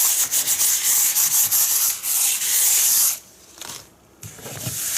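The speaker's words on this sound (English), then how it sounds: "I lightly sand it with the 400 grit" Sandpaper of 400 grit rubs across a gessoed 10 by 10 inch stretched canvas in quick, hissing back-and-forth strokes, loud and close, then pauses briefly before starting again more softly.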